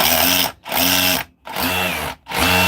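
A battery hammer drill runs loud and close in three bursts, its motor whining and hammering, with short pauses between runs.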